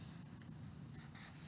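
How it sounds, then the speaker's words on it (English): Pen scratching across paper while a two-digit multiplication problem is written out by hand, a quiet steady scribbling with small strokes and pauses, close up, no talking. "Let's actually write it down and let you see it."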